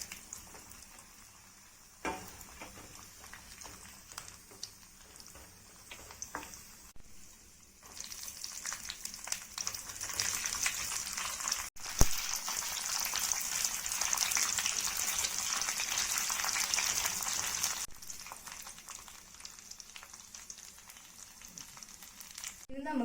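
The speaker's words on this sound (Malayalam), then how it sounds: "ഇതിലേക്ക് നമുക്ക് കശുവണ്ടിയും കിസ്മിസും ചേർത്ത് വറുത്തെടുക്കാം." Cashews and raisins frying in two spoons of ghee for a Kerala-style beef stew garnish, a soft sizzle that swells into a strong steady crackle mid-way, with intermittent stirring and quieter stretches at the start and end.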